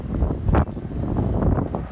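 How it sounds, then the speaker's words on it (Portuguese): Gusty wind buffets a sailboat moored in Greece, a steady rough rush with a stronger swell of wind partway through, close to the microphone and without voices. "Agora tá entrando umas rajadas, dá pra ver melhor o que tava acontecendo ontem."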